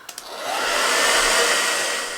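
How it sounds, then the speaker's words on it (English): A hair dryer blows steadily along a freshly glued edge of an insulated blackout window cover, its airy whooshing roar swelling after a couple of clicks at the start and holding loud and close without talk. "I'm gonna run the hair dryer down the edge"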